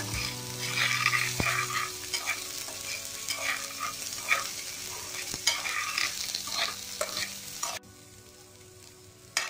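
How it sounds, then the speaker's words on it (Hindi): Soft, steady scraping and stirring of dry coconut roasting in a dry pan with light crackling, close up, continuing for several seconds before cutting out. "इनको भी थोड़ा रोस्ट कर लेते हैं।"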